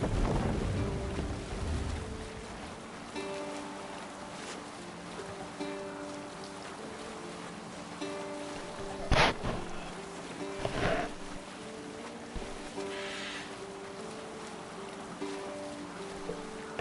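Viking longship under sail on open sea in Assassin's Creed Valhalla, with steady wind and water wash, a low tonal music bed and a couple of brief sharp splashes or thuds along the way.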